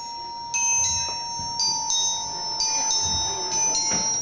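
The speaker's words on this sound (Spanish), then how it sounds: "ese timbre suena solo" A house doorbell chimes repeatedly during a comedy stage show, a bright ringing tone struck again and again in an irregular pattern, with faint voices and room noise underneath.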